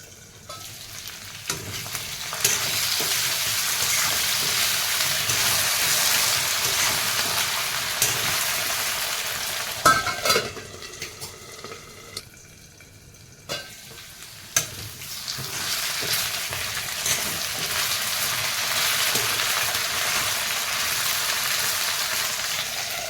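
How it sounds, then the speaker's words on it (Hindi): Potatoes frying in oil over a medium flame: a steady, hissing sizzle heard up close, briefly interrupted midway by clattering and stirring noises, then resuming just as strongly, with no speech. "5 मिनट आलू को मीडियम फ्लेम में हम फ्राई होने देंगे।"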